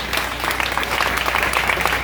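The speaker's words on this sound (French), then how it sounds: "nous demandons à l'assemblée va applaudir s'il vous plaît" A congregation at a church mission event applauds steadily, a short, even burst of many hands clapping throughout without pause.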